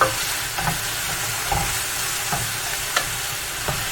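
Vegetables frying in a pan or wok for a lemon ginger chicken stir-fry, a steady close sizzle with a few soft clacks of stirring scattered through.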